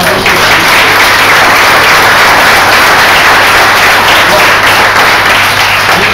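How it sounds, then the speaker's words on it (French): Dense, sustained audience applause fills the room for a speaker at a public event, loud and steady throughout with no pauses. "alors vous pouvez l'applaudir"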